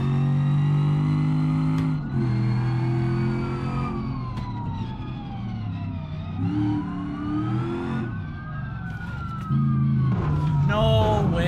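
A police car siren wails through BeamNG.drive gameplay, its rising and falling tone sweeping over the steady engine roar of a 1000 horsepower Camaro ZL1 1LE, with talk running underneath throughout.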